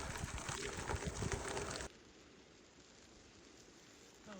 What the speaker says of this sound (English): Rain wasn't on the forecast.